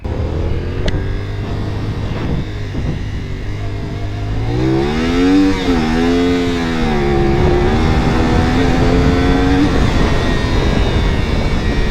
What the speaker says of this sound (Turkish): Arkamıza motor geldi